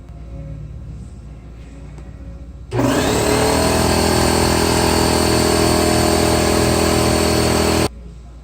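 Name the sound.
air compressor filling its tank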